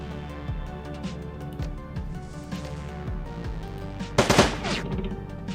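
Gunfire from a shotgun or pistol in Shadowrun Dragonfall, a series of sharp shots roughly every second over steady game music and ambience, followed by a louder burst of crackling impacts near the end.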